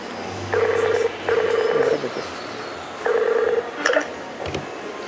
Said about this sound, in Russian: Вот сейчас попробуем дозвониться другу